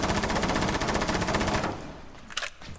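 Rapid automatic gunfire in Rainbow Six Siege rattles in a dense, loud, evenly spaced burst for about a second and a half, then cuts off into quieter game noise with a couple of faint knocks.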